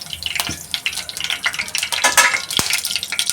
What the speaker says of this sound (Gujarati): આપણે સમોસા બનાવવા માટે તેલ મૂકી અને એનો વઘાર કરીશું